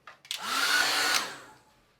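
A hair dryer switches on and blows briefly over a wet watercolour sunset painting, a loud, close whooshing hum lasting about a second before it winds down.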